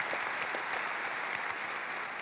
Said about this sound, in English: don't clap too much for Congress.